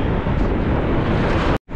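Strong wind buffeting the microphone of a cyclist on a solo 100 km ride, a loud continuous low roar that cuts out briefly near the end.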